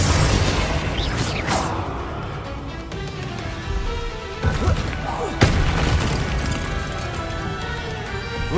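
Confringo fire spell blasts in Hogwarts Legacy, several booming explosions and crashes over a loud, dense game soundscape with rumbling effects, close and full.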